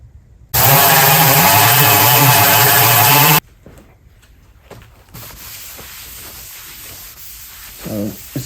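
Sandpaper rubs hard against a vintage Delta Rockwell 1460 wood lathe to remove grime and rust, a loud, continuous scraping burst lasting about three seconds, followed by quieter intermittent rubbing and handling noises.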